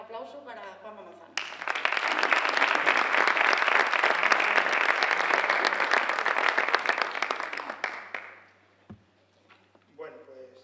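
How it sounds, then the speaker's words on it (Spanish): Brief talk gives way to a loud burst of audience applause that holds for several seconds, then fades out before a voice begins speaking again. "Un gran aplauso para Juanma Manzano."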